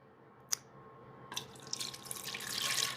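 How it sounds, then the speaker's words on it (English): Pumpkin puree is poured into a batter bowl, a faint wet splat followed by a thickening, gurgling pour that grows steadily louder and closer over a few seconds. "just carefully pouring this over into my batter bowl."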